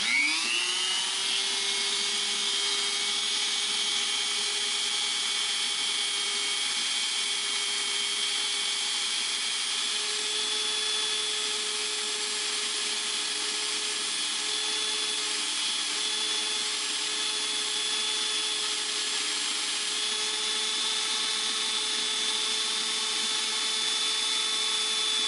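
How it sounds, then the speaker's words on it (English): A rotary polishing wheel spins up and runs continuously while shaping wire on a three-stone wire-wrapped pendant, a steady high whine with faint grinding contact sounds throughout. "That's why I use this polishing wheel, because it's a lot faster."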